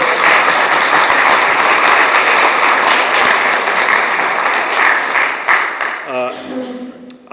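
A chamber of commerce breakfast audience breaks into loud, dense applause that fills the room for about six seconds and then quickly dies away, followed by a voice beginning to speak.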